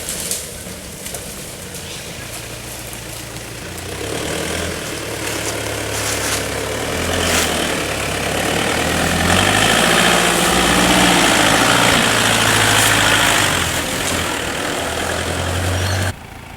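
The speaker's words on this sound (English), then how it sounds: "we do a bit of four-wheel driving to find a new camping spot" Four-wheel drive vehicle engine on a bush track in Cape York, a steady low idle-like rumble that grows louder and rougher midway as the vehicle works along, with rattles and vibration throughout.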